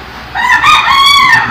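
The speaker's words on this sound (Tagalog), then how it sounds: "Nauna pa yung manok." A rooster lets out a single loud, close crow that rises and falls over about a second, standing alone against a faint background.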